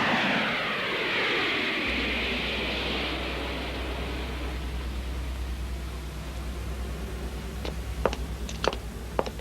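A fixed-wing airplane approaches for landing, its engine roar swelling loud and steady before easing into a lower rumble, with a few sharp clicks near the end and no talk.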